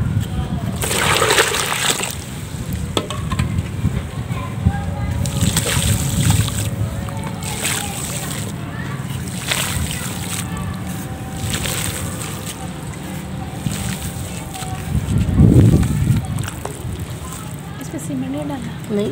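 Water poured into and sloshing through a batch of pure mud being mixed by hand to shape objects, no cement added, with wet splashes and squelches recurring throughout and a louder splash burst near the end, under intermittent talking.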